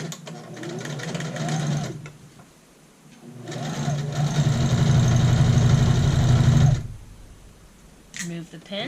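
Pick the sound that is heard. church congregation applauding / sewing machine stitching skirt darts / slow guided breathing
sewing machine stitching skirt darts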